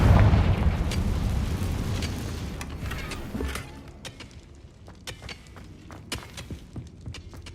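Confringo spell explosion in Hogwarts Legacy, a loud fiery blast at the start that rumbles and fades, followed by scattered sharp crackles and small pops.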